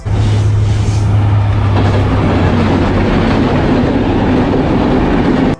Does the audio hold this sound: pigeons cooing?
no